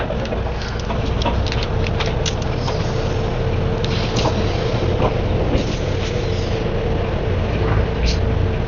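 Steady loud engine rumble and road noise of a bus ride on a snowy day in the UK, heard from a front seat, with faint rattles throughout.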